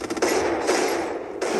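Rapid gunfire bursts in the mobile shooter Free Fire, loud close shots in quick succession with a brief pause and another burst, including a headshot.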